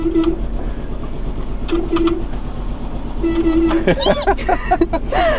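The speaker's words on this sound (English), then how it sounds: "Do you want to know what the horn sounds like? A little diddy horn." Three short, high honks from a small horn sound in separate bursts, while a person talks nearby and birds chirp.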